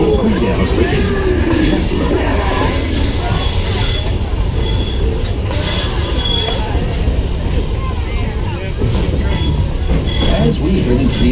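The Walt Disney World Railroad train rolls along with a loud, continuous rumble, high wheel squeals and rhythmic clatter, while announcements or talk carry over it.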